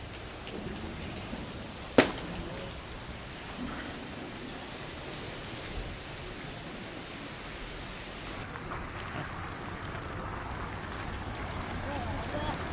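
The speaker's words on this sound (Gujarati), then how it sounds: "વરસાદ ચાલુ જ છે હજુ." Rain falls outdoors beside a quiet road near a closed factory, a steady dense hiss of drops that holds for the whole stretch, with one sharp knock early on.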